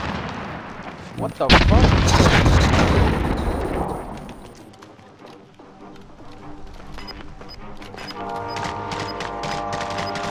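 Gunfire in Call of Duty Warzone, a loud burst of rapid shots near the start with a heavy rumbling aftermath, then fainter scattered shots and game tones later; a voice curses briefly over it.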